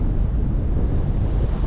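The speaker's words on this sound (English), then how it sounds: "So there's the wind blowing" Strong wind buffets a GoPro fitted with a foam Windslayer outdoors among trees, a loud continuous low rumble with no gaps, close and unbroken for the whole moment.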